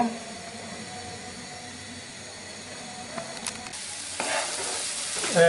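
Beef curry cooked without oil, tomatoes being stirred into the spices in a pot: a steady soft sizzle and scraping stir, with a few louder spoon knocks and clatter toward the end, no talk.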